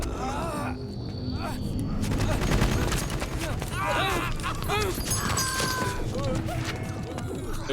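Gunfire from the Metal Gear Solid game, dense bursts of shots crackling over a busy layer of music and in-game effects, steady and fairly loud across the whole stretch, with voices mixed in.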